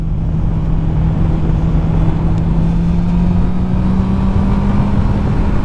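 A 2021 Honda CB650R motorcycle engine hums steadily and loudly at close range, a constant low drone that climbs slightly in pitch, without speech.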